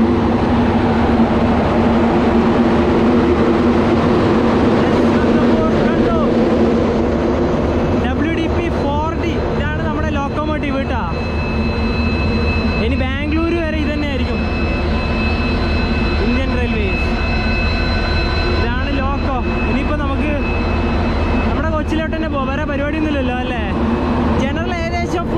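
A loud, steady mechanical drone from the generator car of the Kannur–Yesvantpur Express, with a constant low hum and rumble throughout while a voice speaks over it at intervals.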